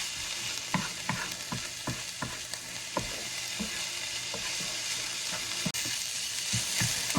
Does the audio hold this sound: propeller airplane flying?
no